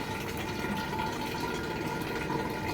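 Bore water pouring into a clay pot filter, a steady, close, continuous splashing rush that stays even from start to finish without pauses.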